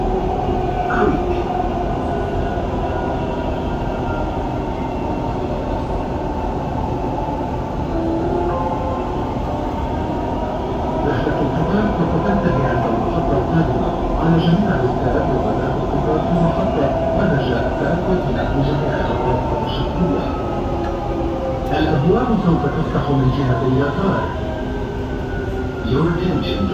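A Dubai Metro train runs on its route toward Creek station, giving a steady, continuous rumble and rolling rail noise with faint squeals and tonal whines throughout the ride, with no voices heard.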